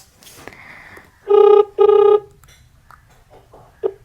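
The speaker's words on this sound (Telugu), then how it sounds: "చందనకు చేస్తున్నా, చూద్దాం." An outgoing phone call ringing: two loud, evenly spaced ringback tones in the middle, with faint background noise and a few soft clicks around them.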